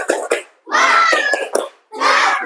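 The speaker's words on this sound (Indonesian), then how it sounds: "kita tepuk semangat dulu" A class of schoolchildren chants the Indonesian tepuk semangat routine in loud, close unison, with short clap-like bursts between spoken phrases and brief pauses.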